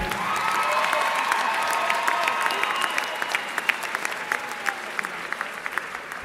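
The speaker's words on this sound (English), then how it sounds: "So everyone, please put your hands together and clap for your hardworking children" A graduation audience at a charter school ceremony in Brockton applauds, dense clapping with some cheering that gradually thins into scattered separate claps toward the end.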